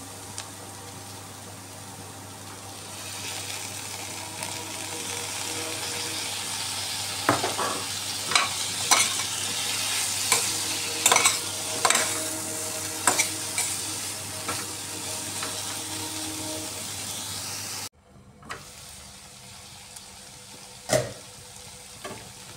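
Cut sweet gourd sizzles steadily in a pan of frying cauliflower-stalk chorchori, with repeated sharp scrapes of a spatula stirring, a brief pause near the end, then one more scrape.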